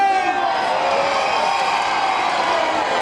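A dense crowd at an outdoor orchestra concert at a Galician town festival shouts and cheers loudly together, a sustained roaring wall of voices with music underneath.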